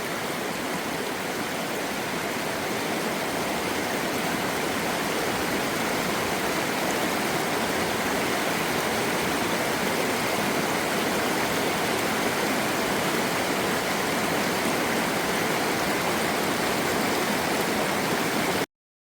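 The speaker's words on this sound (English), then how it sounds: "I found a path right next to the edge of the waterfall that was barely knee deep for me." Fast-moving water rushes right beside a waterfall on the Appalachian Trail in North Carolina, a loud, steady, unbroken roar that lasts the whole time with no voices.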